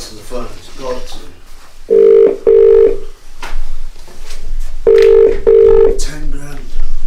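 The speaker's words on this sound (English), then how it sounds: "answer the phone. It's got to." A telephone rings in repeated paired electronic bursts with short pauses between them, loud and close, as a voice talks in between the rings.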